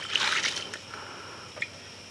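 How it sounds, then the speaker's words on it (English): Water is dumped over a carp lying on a mat, giving a short splashing rush up front followed by a few faint drips and trickles, with no voices. "I'll dump water on again"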